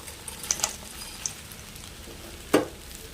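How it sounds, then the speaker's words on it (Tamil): Fried soya chunks being mixed into noodles in a pan: a faint, steady sizzle broken by a few light clicks and one sharper scrape of the spoon near the end, with no talking. "மீல் மேக்கர் ஆட் பண்ணிவிட்டு நல்லா மிக்ஸ் பண்ணிக்கலாம்"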